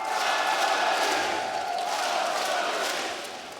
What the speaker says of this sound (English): Timeout called for Aurora as the Astana crowd are chanting Astralis.